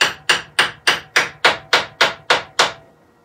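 Ten crisp, evenly spaced wooden taps in quick succession as dowels are knocked into a woodturning blank, each a sharp close knock with a short decay, ending in quiet.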